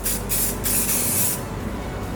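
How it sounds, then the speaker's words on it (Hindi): Hair spray is sprayed onto a braid in close, loud hissing bursts, with two short puffs followed by a longer spray before it stops. "इस पे स्प्रे हमें थोड़ा सा ज़्यादा रखना है जिससे एज इट इज़ ये स्टे कर जाए।"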